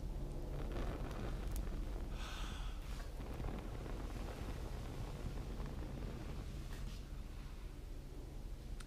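Breath blown steadily onto a small burning tinder fire outdoors on a hike or campsite, a continuous breathy rush with one stronger gust near the middle, close to the microphone.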